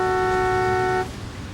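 One loud car horn blares in a city street, a sustained honk lasting about a second before cutting off, leaving a low rumble of traffic behind it.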